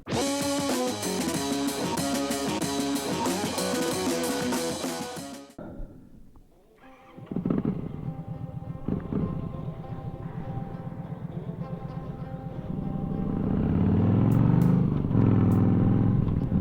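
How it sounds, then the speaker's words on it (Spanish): A Yamaha V-Star motorcycle rumbles while being ridden, starting after loud music cuts off, then settling into a steady engine drone that swells toward the end. "La moto, como había dicho, es una Yamaha"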